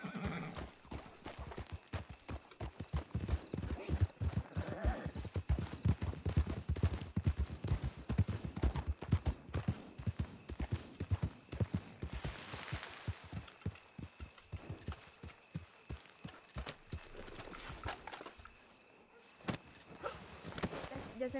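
Horse hooves clip-clop steadily in a Red Dead RedM roleplay game, with a horse neighing at times, loud and continuous beneath in-game ambience.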